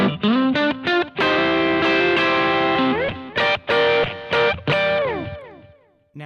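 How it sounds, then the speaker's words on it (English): An electric guitar runs through a Boss GX-10 processor on its Studio Blues preset, giving a Texas-blues level of distortion. Loud sustained notes and bends ring out in short phrases with pauses, and the last note decays into silence. "Like that has more of like a Texas blues level of distortion on it"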